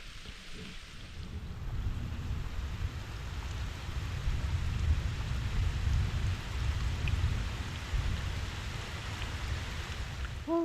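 Steady, dense storm rainfall pours down throughout, a continuous broadband hiss with a low rumbling undertone and no voices.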